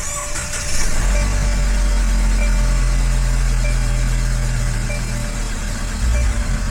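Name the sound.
car engine started and idling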